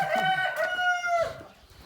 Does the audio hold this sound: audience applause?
no